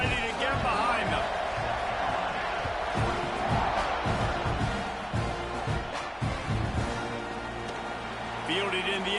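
A packed college football stadium crowd at a Texas A&M vs South Carolina game roars steadily before kickoff, a dense, continuous wall of cheering and shouting with brief swells and whoops throughout.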